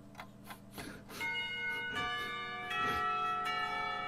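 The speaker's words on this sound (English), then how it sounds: "The lunch bell sounds" A school lunch bell in the Katawa Shoujo visual novel rings out in layered, sustained chime tones that build and hold, with no voices over it.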